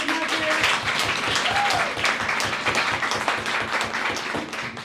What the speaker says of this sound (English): everybody's going to give you a round of applause